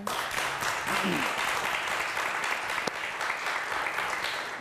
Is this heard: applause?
yes